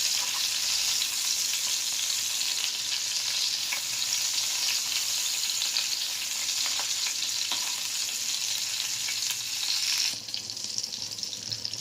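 Mutton keema sticks fry in hot oil with a steady, loud, close sizzle and crackle throughout, easing slightly near the end.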